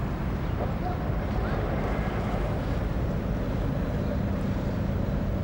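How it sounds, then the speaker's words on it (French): An old sailing boat's engine drones in a steady low rumble as it leaves port, with wind buffeting the microphone and water noise running continuously underneath. "La sortie du port se fait au moteur"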